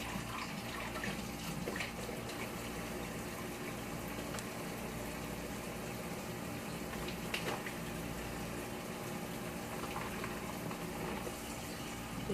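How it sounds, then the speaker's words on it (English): Tap water runs steadily from a faucet as corned beef is rinsed in a kitchen sink, a constant even rushing stream throughout with no voices. "You're then going to rub or wash the jelly off of your meat."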